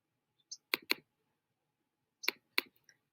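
Computer mouse clicks, two quick pairs of sharp close clicks separated by a pause, quiet and alone.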